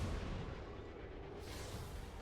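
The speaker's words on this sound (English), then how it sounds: "probably just wondering what even is the noise that that gun is making, though, Muton Harrier" A Muton Harrier gun firing in XCOM 2 makes a dense, continuous roaring barrage, loud and unbroken for its whole short length, with no voices.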